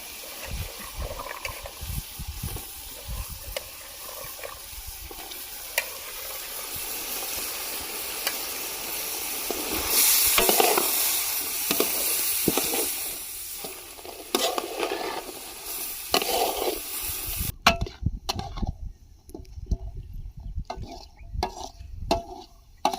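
Boti (tripe) and vegetables sizzle and hiss in a hot pan, a dense continuous crackle with stirring scrapes, louder midway and then cut to a quieter, sparser spatter near the end.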